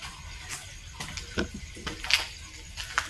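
Water drips inside the abandoned concrete Fort Drum (El Fraile) in Manila Bay, scattered irregular drops and splashes landing at close range over a low hollow background.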